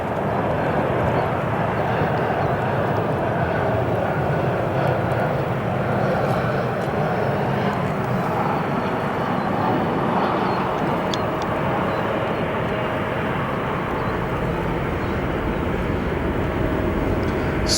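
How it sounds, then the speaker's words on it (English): A Lufthansa Airbus A340 airliner arriving at O'Hare at sunset, its jet engines giving a loud, steady, broadband roar that holds evenly and close throughout. "And hey, we've got our Lufthansa A340"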